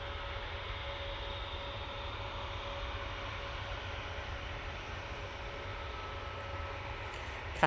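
A Turkish Airlines Airbus A321neo jet taxis at Manchester Airport, a constant low engine rumble with a faint steady whine, held at a moderate distance without change.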